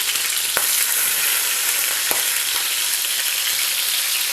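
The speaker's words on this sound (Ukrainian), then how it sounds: "І так обсмажую з усіх боків." Steady, loud sizzling of fish frying in a hot pan, with a few faint clicks and taps over the constant crackle.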